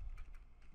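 A few quick keystrokes tap on a computer keyboard as a computer name is typed on a Microsoft Server, close and crisp in a short burst.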